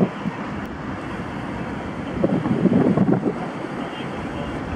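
Strong wind gusting along a street during a windstorm, roaring steadily as a broad rumble and swelling into a louder gust midway before easing again.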